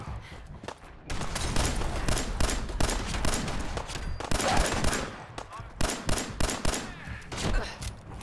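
Rapid bursts of video game gunfire, like a machine gun, crackle in dense volleys that stop and start again. The shots go on through the whole stretch, with faint game sounds underneath.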